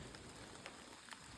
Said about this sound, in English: I'm stuck in the rain